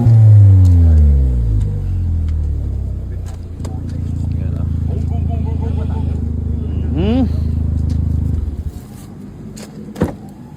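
A 2016 Ford Focus 1.6 EcoBoost turbo rises to a loud, close engine roar as it accelerates, then holds a steady drone before cutting off into quiet with a few sharp knocks; people talk over it.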